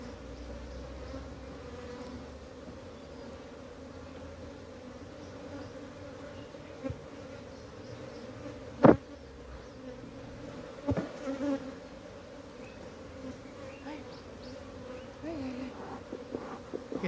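Honeybees buzz steadily around an open hive during a swarm prevention inspection, a dense close hum with a few brief knocks and clicks from frames and tools.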